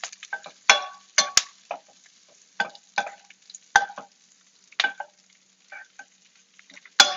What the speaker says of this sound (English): That butter is popping out there, making a mess that I will clean up later.